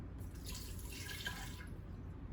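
Coconut water poured into a blender jar, a steady, close liquid splash and trickle lasting about a second and a half, with no talking.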